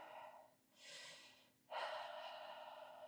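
Slow, deep breaths during a standing Pilates forward hang: a long airy inhale, a pause, then a stronger, louder exhale that carries on to the end, close and alone with no talking.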